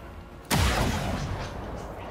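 A single loud gunshot in the video game XCOM 2: War of the Chosen. One sudden heavy blast follows a quiet lead-in, then a long booming tail that fades slowly.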